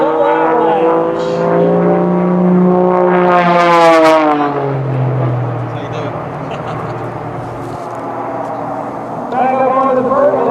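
An aerobatic airplane climbs and rolls through a routine overhead, its engine droning loud and steady with a swelling, pitch-shifting whine as it passes, then settling before rising again.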